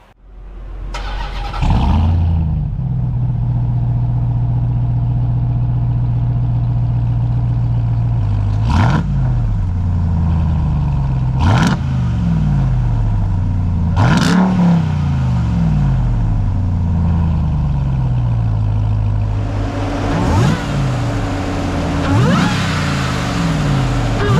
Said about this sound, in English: You of course get the supercharger whine, you get the Hemi rumble